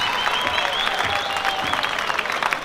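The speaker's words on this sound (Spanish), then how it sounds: "A ver ese aplauso, que se escuche ese aplauso" Audience applause at a breaking b-boy 1vs1 championship quarterfinal battle, steady dense clapping from a crowd over a continuous hiss of room noise, with a host's voice lightly over it.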